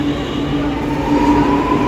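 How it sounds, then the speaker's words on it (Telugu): A Chennai underground metro train speeds along at around 120 km/h with a loud, steady rushing roar and a high whine, close and continuous throughout. "చాలా అంటే చాలా స్పీడ్గా వెళ్ళిపోతుంది అసలు మెట్రో"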